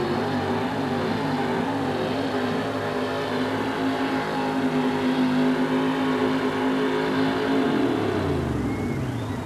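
A 1942 Chevrolet World War II vintage truck fitted with a 454 Chevy V8 roars loudly and steadily while pulling at an arena motorsport event, its engine note holding and then dropping away near the end.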